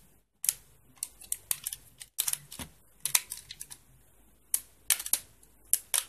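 Plastic parts of a TFX-04 transforming toy trailer are clicked and plugged into place, a series of sharp, close snapping clicks in uneven bursts with quiet gaps between.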